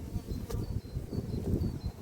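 Honey bees buzzing at an apiary hive, a steady close drone that rises and falls slightly in loudness, heard alone without talk.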